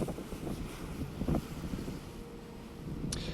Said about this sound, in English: Here we're taking the ferry over to the meeting point for the Trek trip.